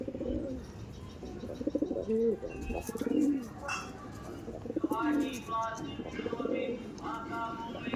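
Madrasi pigeons cooing in a loft, repeated low throaty coos close by, with people talking over and between the calls.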